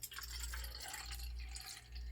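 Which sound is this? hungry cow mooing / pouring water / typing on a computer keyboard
pouring water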